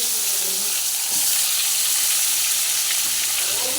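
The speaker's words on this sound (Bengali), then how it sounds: "ওই তেলের মধ্যে বেগুনগুলো দিয়ে দিলাম" Eggplant pieces drop into hot oil and fry with a steady, close, broadband sizzle that holds evenly for several seconds, with no voices.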